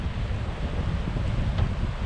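Strong wind roars across the microphone beside the Saguenay fjord, a continuous close rumble with the wash of waves beneath it and no voices.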